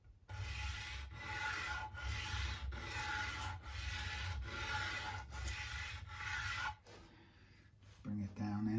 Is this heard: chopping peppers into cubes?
no